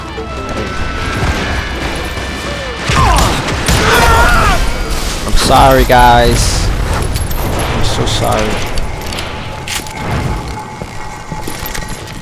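An explosion goes off in the Call of Juarez Gunslinger western shooter, a loud boom and crashing burst with gunfire around it while someone talks over the game.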